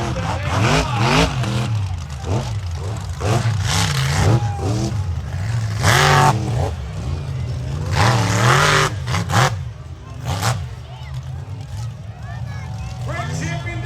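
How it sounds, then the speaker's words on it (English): A monster truck at an outdoor show revs and accelerates in repeated roaring surges, engine pitch climbing and falling across the clip while crowd noise and an announcer's voice carry underneath. "The power of the monster truck and acceleration"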